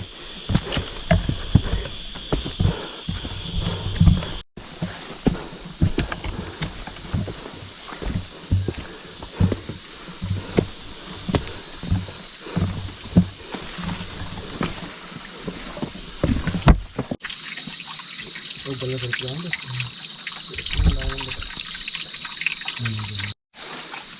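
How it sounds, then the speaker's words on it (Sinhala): A stream of water flows along a rock on the Sri Pada hiking trail, a steady close rushing hiss that continues for the whole stretch, with a few brief breaks. "මේ ගල දිගේ වතුර පාරක් එනවා"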